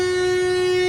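A train sounds a steady, loud, droning horn-like tone as it pulls into Pamban station after crossing Pamban Bridge on the Madurai to Rameswaram line. The blast is brief and unbroken, with no voices.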